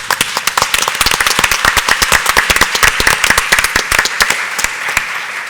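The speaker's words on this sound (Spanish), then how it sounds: "Un fuerte aplauso." Close, loud audience applause after a round-table discussion on social media and news outlets, with sharp, distinct hand claps in quick irregular succession forming a crisp, sustained burst.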